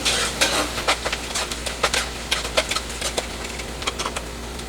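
Onion and garlic fry in a pot, with an even sizzle broken by frequent sharp scrapes and clicks from stirring, close and fairly loud, with no talk.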